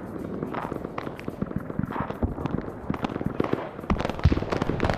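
White phosphorus artillery rounds bursting in an Arma-style Vietnam war game battle at Khe Sanh, a rapid crackling string of distant pops and bangs, dense and continuous like firecrackers.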